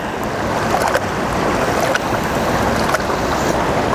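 Water sloshes steadily in a gold pan as gravel is shaken and washed, a continuous close swishing wash with no talk.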